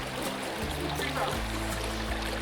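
A flowing creek runs over rocks on a hot morning along a tropical island trail, giving a steady, close rushing and trickling wash that stays even throughout, with no voices.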